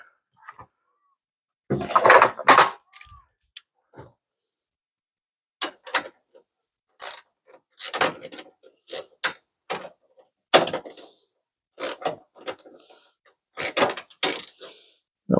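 Wrench or ratchet work tightening bolts on a Porsche 928 headlight mechanism, heard as short bursts of metallic clicking and ratcheting spread across the clip with quiet gaps between, close and fairly crisp.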